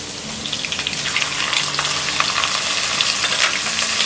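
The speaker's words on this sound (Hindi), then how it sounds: "लहसुन और अदरक फ्राई होने के बाद हम डालेंगे" Crushed garlic and ginger fry in hot oil in a pan for kala chana pulao, a steady close sizzle with scattered crackles and pops, no voices over it.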